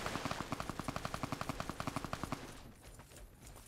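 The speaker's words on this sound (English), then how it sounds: "What, do you guys have a firing line over here and you're practicing?" Rapid automatic gunfire from a video game firing line, a steady burst of about twenty evenly spaced shots over two and a half seconds, then fading into quieter background noise.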